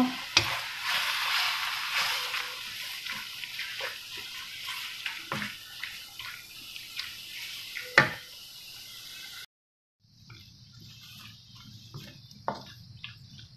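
Chicken curry cooks in a pan with a wet, bubbling sizzle and occasional utensil knocks, then a brief silence before quieter simmering and clatter resume.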